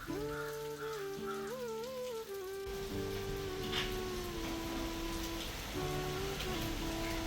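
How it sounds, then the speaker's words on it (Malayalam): Light rain patters steadily outside a car, a soft continuous hiss throughout, with tuneful music playing over it. "അത്യാവശ്യത്തിന് തിരക്കേടില്ലാത്തൊരു മഴയൊക്കെ ഇങ്ങനെ ചാറിക്കൊണ്ടിരിക്കുന്നുണ്ട് അതിൻ്റെ ചെറിയ സൗണ്ട് നിങ്ങൾക്ക് കേൾക്കാനും സാധിക്കും"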